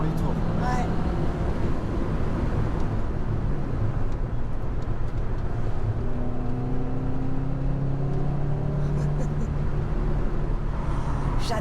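A Renault R19 16S engine revs hard toward high rpm, a steady droning note rising in pitch across the run, heard from inside the car under quiet talk.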